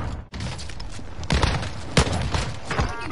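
Gunfire in a shooter video game, several sharp shots and booms at irregular intervals over a noisy background, with some faint talk.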